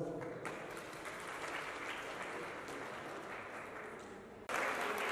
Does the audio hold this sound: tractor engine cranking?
no